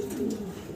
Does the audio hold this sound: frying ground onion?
no